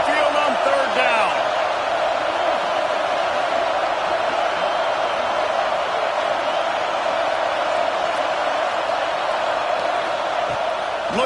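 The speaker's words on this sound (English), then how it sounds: "The Tide crowd rolling noise down onto Saban Field on third down." A packed stadium crowd at a college football game on third down roars in a loud, steady wash of noise, with brief whoops and thuds, under a commentator's voice.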